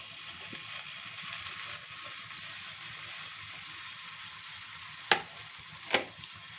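Eggs frying in oil in a pan give a soft, fairly quiet sizzle, with a few sharp clinks of a utensil near the end and no speech.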